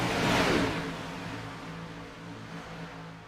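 Stock race cars at Talladega superspeedway in a sim racing game, a Gen-6 pack, roar past in a loud engine whoosh that peaks early and fades into a steady distant drone.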